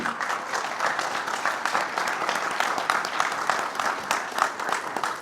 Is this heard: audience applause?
yes